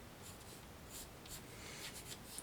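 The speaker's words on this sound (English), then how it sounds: "I'm just sort of sketching out a little simple perspective here." Pencil sketching a simple perspective drawing on paper, a soft continuous scratchy rubbing with faint stroke variations, close and quiet, with no talking.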